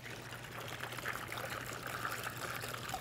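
Water pours steadily into bottles, a soft continuous trickling stream heard up close and fairly faint, with no speech over it.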